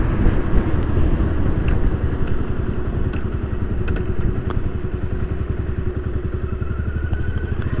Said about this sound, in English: I'm driving now the Yamaha SR400, which is a relatively small bike